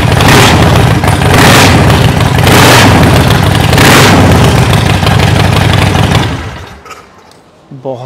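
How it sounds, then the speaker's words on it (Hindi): A loud Harley-Davidson motorcycle engine with a heavy breather intake revs hard in repeated bursts with a booming exhaust, then drops back to a rumbling idle near the end, in a showroom. "बहुत ही लाउड है ये बाइक"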